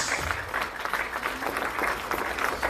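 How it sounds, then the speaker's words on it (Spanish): Church congregation clapping in praise to the Lord during a service, a steady wash of many hands applauding together at moderate volume for a few seconds. "Den un aplauso al Señor en esta hora."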